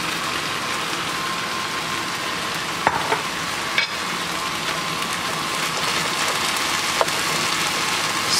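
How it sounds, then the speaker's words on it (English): Onions hitting hot oil in a Dutch oven give a steady, bright sizzle throughout, with a few sharp clicks as they are stirred in the pan. "Now I'll add in my onions."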